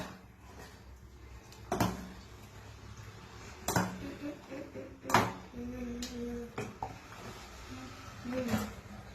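A spoon stirs wheat payasam with ghee-fried cashews and raisins in a metal pot, giving sharp clanks against the rim every couple of seconds over soft scraping, close and fairly quiet.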